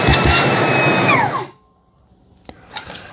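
Fanttik Fold V10 Apex car vacuum running on its low setting, a loud whirring hum that spins down and cuts off after about a second and a half, followed by a few faint clicks and handling sounds.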